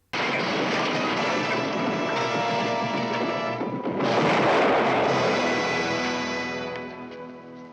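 A bomb blast in a Superman radio drama: a loud, sustained roaring rumble with a second surge partway through, fading slowly at the end, with no voices.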